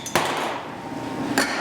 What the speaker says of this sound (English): is just put a lid on it.